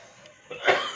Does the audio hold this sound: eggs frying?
no